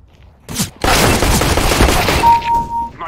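Automatic gunfire in Counter-Strike: Global Offensive: a single short shot, then a loud, sustained burst of rapid fire that fades into a few trailing booms.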